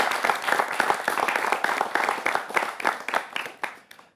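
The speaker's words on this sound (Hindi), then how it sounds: "अपने लिए भी ताली बजा सकते हैं।" A studio audience at a televised Hindi panel discussion breaks into steady applause, dense overlapping claps sustained for a few seconds before tapering off at the end.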